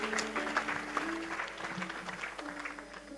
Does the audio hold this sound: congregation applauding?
yes